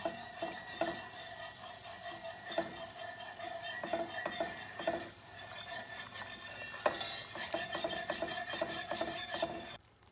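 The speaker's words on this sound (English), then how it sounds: "And just keep working it with a whisk" Whisking a roux in a pot for chicken gumbo, continuous rhythmic scraping and rubbing of a whisk against the pot, close and steady, with no voices.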